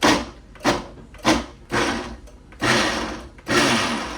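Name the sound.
blender chopping garlic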